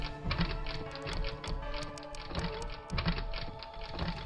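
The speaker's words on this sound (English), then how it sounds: "I put my phone down and resume typing into Miyoko's phone." Rapid tapping of keys on a phone in Steins;Gate, a steady stream of light clicks with a soft rhythmic beat beneath, close and fairly quiet.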